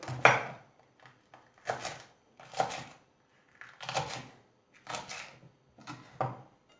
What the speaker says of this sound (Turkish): Şu şekilde önce biberlerimi kesiyorum